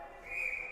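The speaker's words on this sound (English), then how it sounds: "we've got a whistle" A referee's whistle at a youth ice hockey game, a single short shrill blast rising out of low arena noise and holding steadily to the end, moderately loud with no speech.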